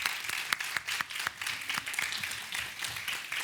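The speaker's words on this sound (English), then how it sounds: "I think we should have a round of applause for your contributions." A small conference audience applauds, a steady patter of many hands clapping at moderate volume throughout.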